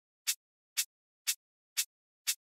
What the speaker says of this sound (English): The second thing is just regular shaker sound with the offbeat.